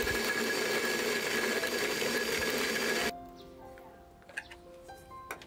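A cordless electric garlic peeler loaded with garlic cloves whirs with a steady, dense mechanical buzz for about three seconds, then shuts off, leaving a quiet room with a few faint clicks.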